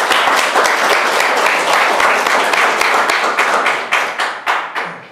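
Audience applause at a talk on design as strategy and social change, a dense burst of many hands clapping that runs loud and then thins into scattered separate claps near the end.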